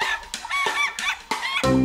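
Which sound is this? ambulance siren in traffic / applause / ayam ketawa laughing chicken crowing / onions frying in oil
ayam ketawa laughing chicken crowing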